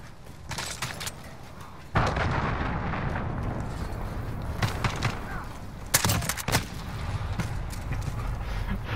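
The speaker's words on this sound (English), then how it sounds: "Allied cruise missile away" Call of Duty Modern Warfare cruise missile strike: a heavy explosion hits at about two seconds, followed by sustained rumbling blasts and scattered gunfire, with another sharp burst of impacts near six seconds, all loud and dense.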